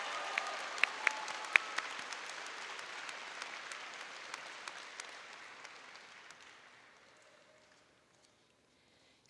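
A graduation audience applauds students in a dense, steady ovation with a few sharp individual claps near the start, fading gradually to silence.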